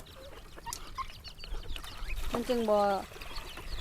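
On a small Lao poultry farm, a mother hen gives a short burst of clucking calls near the end, fairly faint against background farm noise, while a person talks nearby.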